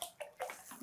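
Water is poured into a cooking pot while making Saudi kabsa: a short, faint splashing gush in quick uneven bursts, with no talk.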